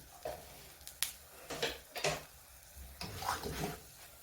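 Potato and egg frying in a pan of oil, with a handful of scraping flips and utensil taps over a soft steady sizzle, close and fairly quiet.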